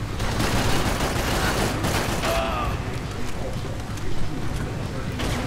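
Dense bursts of gunfire from a firefight in the favelas in the video game Max Payne 3, a continuous loud fusillade with rattling volleys throughout and busy game noise beneath.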